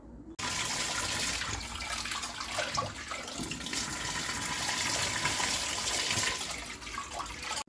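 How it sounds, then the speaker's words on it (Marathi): Running water splashes and gushes steadily while dal lentils are rinsed in a kitchen sink or bowl, a continuous close wash of water lasting several seconds with brief swishing changes and no talk. "लगेच डाळ धुवून याच्यात टाकणार आहे"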